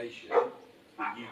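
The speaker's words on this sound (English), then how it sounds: "just Winnie barking in next door's garden" A dog barks in the garden next door, two short barks about half a second apart, moderately close in a quiet residential setting.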